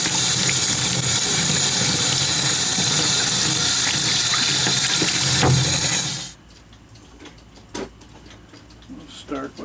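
Hot water runs loudly from a tap into a laundry sink as clock parts are rinsed, a steady close rush that stops abruptly, leaving faint clinks and handling sounds.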